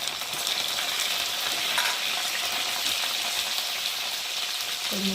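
Cumin paste and ginger paste hitting fried potatoes in a pan, a loud, continuous close-up sizzle that stays even throughout, with a faint stir near the end.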